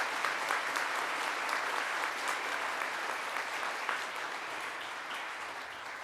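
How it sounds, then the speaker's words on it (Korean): Warm, continuous applause fills the hall at the 2024 Samsung Ho-Am Prize award ceremony, sustained and even before slowly tapering off. "여러분 계속해서 뜨거운 박수로 축하의 마음을 전달해 주시기 바랍니다."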